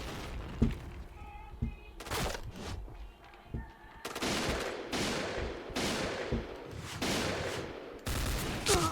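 M4A1 rifle gunfire in the shooter game Point Blank: sharp bursts and single cracks, loud and close, with rapid strings of shots and short pauses between volleys, and a player's voice briefly audible between them.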